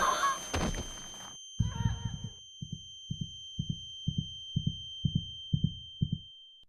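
Heartbeat sound effect for a fight scene, a run of about ten evenly spaced, deep thumping beats, loud and close, following a brief burst of rushing noise and low impacts.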